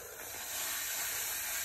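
Heated vinegar poured slowly onto a drain-cleaning mix in a sink fizzes with a steady, close, bright hissing that swells slightly and holds constant, with no talking.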